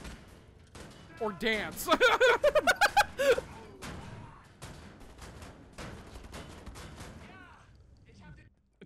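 Rapid gunfire bursts from the shooter video game Wolfenstein: The New Order ring out in quick successive volleys, loud and close, then thin into scattered shots. Players talk and laugh over the gameplay.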